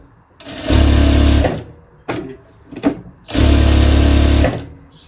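Jaki sewing machine stitching at high speed with the pedal pressed hard: two loud, rapid buzzing bursts of stitching separated by a short pause with a few clicks, close up and without talk.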